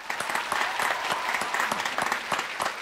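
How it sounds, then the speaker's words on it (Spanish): A studio audience on a Colombian television talk show applauds a guest, a lively burst of many hands with sharp individual claps standing out, moderately loud and close. "Aplausos, aplausos aquí para Juancho"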